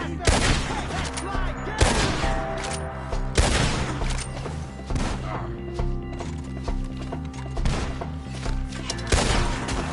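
Video game shootout with loud, repeated gunshots in irregular volleys, along with horse hooves and whinnies and shouting voices in the mix.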